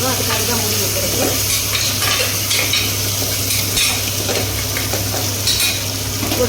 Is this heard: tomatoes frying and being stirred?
yes